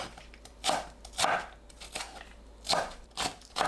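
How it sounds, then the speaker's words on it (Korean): A knife julienning scallions, cut to 10 cm lengths, on a cutting board makes about six crisp, close chops at an uneven pace, each a quick rasping thud, with quiet pauses between and no speech. "파를 10cm 길이로 자르고 채 썰어줍니다."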